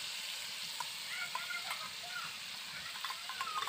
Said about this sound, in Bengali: মশলাটা ভালো করে কষে নিয়েছি